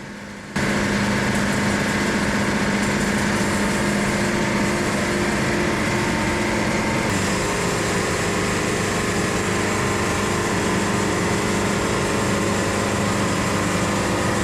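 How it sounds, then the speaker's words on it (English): A band sawmill cuts through a hard spalted curly rock maple log with the band tension raised, giving a loud, steady engine drone and blade whine that run unbroken after a brief quiet start. "This log is so hard, I'm gonna up my band pressure, get the tension up a little bit so I can keep cutting straight."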